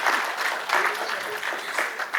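A conference audience claps for two gentlemen, a dense, sustained wash of applause from a large crowd that swells and eases slightly throughout.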